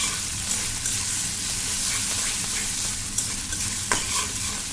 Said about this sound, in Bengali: দিয়ে ভালো করে কষাতে হবে।